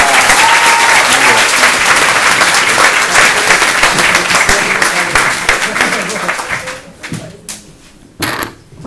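Loud applause from an audience at an anniversary ceremony, dense and continuous at first, then thinning out to scattered claps before a brief final burst.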